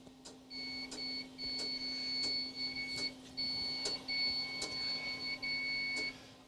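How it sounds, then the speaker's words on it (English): A Data General computer reading a floppy disk sounds a series of high, thin electronic beeps in repeated short bursts with brief gaps, over a low steady machine hum. "so you can continue to hear the beeps"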